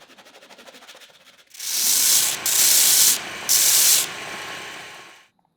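Wooden veneer edges are sanded by hand in two long rasping passes with a brief break between, close and loud, after a few seconds of soft rubbing; no one speaks.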